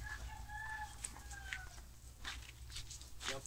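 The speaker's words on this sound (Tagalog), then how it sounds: "Madami silang manok dito mga man." Chickens cluck and a rooster crows on a Philippine farm, drawn-out crowing calls near the start followed by scattered clucks and squawks over a steady low rumble of outdoor background noise.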